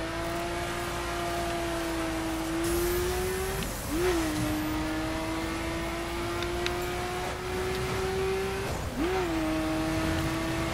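Chevrolet Camaro driven in the video game The Crew, engine tone climbing steadily through gears with two sharp upshift drops, continuous road noise beneath, close and clear without speech.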